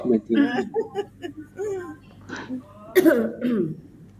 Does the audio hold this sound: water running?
no